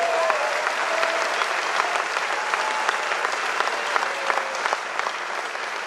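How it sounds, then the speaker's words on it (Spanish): A large conference audience applauds a financial speaker's advisors, a sustained, even wash of many hands clapping at moderate volume, with scattered distinct claps and a faint tonal sound in the background. "Así que les pido un aplauso para ellos"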